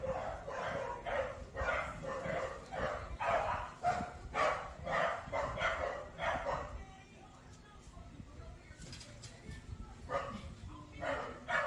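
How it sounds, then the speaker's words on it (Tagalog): Several dogs at a home bark at a child passing by, with repeated close yaps in quick bursts, a short pause, then more barking, while a voice talks quietly in the background. "May batang dumaan. Tumatahol lang sila Daddy Andy."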